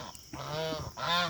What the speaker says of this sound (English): There are the geese.